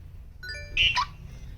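A quick series of high electronic chirps and beeps from a car alarm arming, fairly clear over a low steady background hum.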